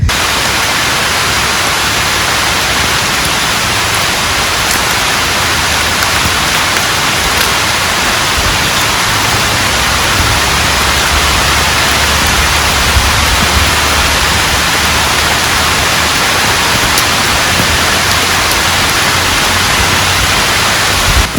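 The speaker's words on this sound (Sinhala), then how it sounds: "වරුසාවක් වැටෙන්න හදන්නේ. වැටෙනවා කියන දැනටත් වහිනවා" Steady rain falls in a rural outdoor cooking setting, a constant dense hiss of loud, even patter that fills the whole stretch without pause or voices.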